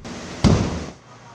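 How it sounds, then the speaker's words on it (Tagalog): A single explosion from an LPG tank during a warehouse fire in Valenzuela City bursts out loud and close, a heavy boom followed by a rumbling decay over steady background noise. "Sa gitna ng pag-apula, dumagundong ang tatlong pagsabog."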